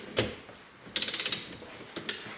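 A torque wrench set to 3.5 kg ratchets a 19 mm socket on a Derbi Euro 3/4 moped engine, giving a close burst of about seven quick metallic clicks between a few single knocks.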